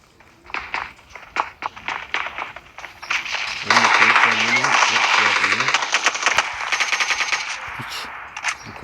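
Gunfire in a video game: scattered single shots give way to a long, dense burst of rapid automatic fire with metallic clinks, close and loud, while a voice talks faintly underneath.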